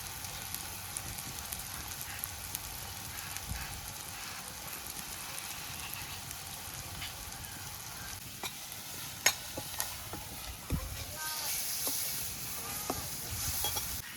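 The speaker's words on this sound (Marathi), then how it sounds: "आपण सर्व मसाले एक सुके ते ॲड करून घेऊया आणि चांगला मसाला परतून घेऊया" Spices and masala frying in oil with chopped onion and tomato, a steady soft sizzle with occasional stirring scrapes and light clicks, close and fairly quiet, no talking.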